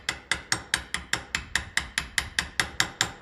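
Small metal tool tapping on a 1954 Ferguson TEF 20 diesel tractor part to close a widened screw slot: about fourteen light, evenly spaced metallic taps ringing close up with no voices.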